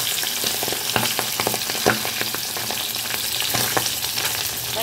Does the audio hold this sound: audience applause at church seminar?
no